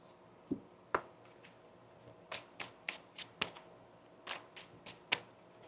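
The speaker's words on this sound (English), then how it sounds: "Let's get 3 more oracle cards here." Oracle cards being shuffled by hand, close and crisp, with a dozen or so quick riffles and taps in an uneven rhythm over a quiet room.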